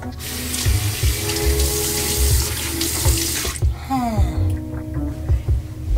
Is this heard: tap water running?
yes